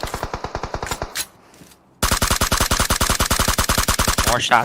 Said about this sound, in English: More shots coming in from Morph GPX.